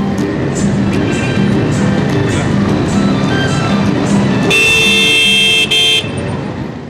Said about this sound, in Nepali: हर्न बजाउनुहोस्।